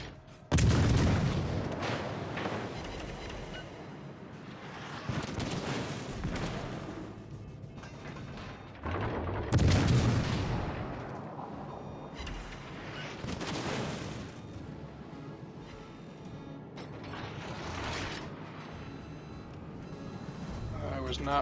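Naval guns fire in World of Warships Legends in heavy booming salvos, two big blasts followed by scattered further shots and rumbling, with a player talking over the battle.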